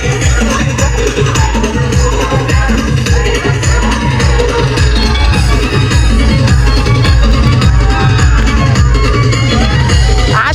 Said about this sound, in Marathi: तर मित्रांनो तुम्ही बघू शकता जल्लोष